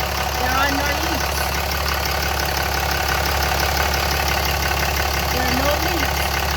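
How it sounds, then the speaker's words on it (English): Ram 3500 diesel pickup with a 68RFE transmission running and warming up after a transmission service, a steady, loud idle rumble with faint ticking, with someone speaking over it throughout. "I'm running it for the first time so that it can heat up."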